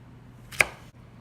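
A knife slicing through fresh okra on a cutting board, a single crisp cut with a short sharp chop, close and clear against a quiet room.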